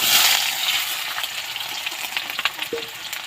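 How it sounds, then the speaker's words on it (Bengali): Chopped onions fry in hot oil, giving a bright, hissing sizzle up close that swells at first and then settles into a crackle with small pops. "চলো পেঁয়াজটা আমি ভালো করে ভেজে নিচ্ছি"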